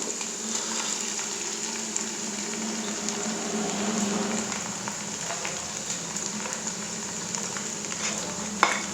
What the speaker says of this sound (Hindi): इसी कंडीशन में हम इसमें लहसुन अदरक का पेस्ट ऐड कर देंगे